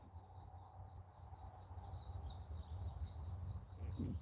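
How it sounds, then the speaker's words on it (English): Birds chirping in a backyard at sunset on a calm evening, a faint repeated high twitter over steady insect-like buzzing and a low background hum, distant and continuous throughout. "I hear the birds chirping."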